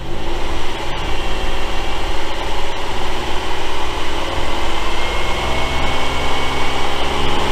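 The engine of a 2007 Pontiac Grand Prix running after a misfire repair. It makes a loud, steady, close-up drone with a deep rumble and no clear rise in revs.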